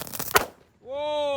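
A jumbo crackling firecracker going off outdoors, a quick burst of sharp crackles and pops lasting under half a second, followed by a voice reacting.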